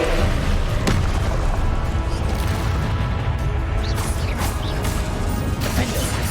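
Confringo spell blasts in the Hogwarts Legacy video game land as sharp crashing bursts, several impacts scattered over a dense, busy layer of game effects and rumble.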